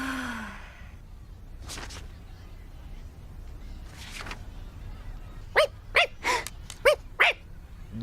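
A cartoon dog in Code Lyoko makes a burst of short yips and barks, about six sharp calls in quick succession near the end, after quieter whimpering sniffs, moderately loud and close.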